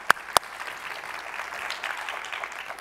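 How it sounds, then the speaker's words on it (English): Clapping from a lecture audience opens with two sharp, close claps, then settles into a softer, distant patter of applause that carries on evenly. "Okay, round of applause."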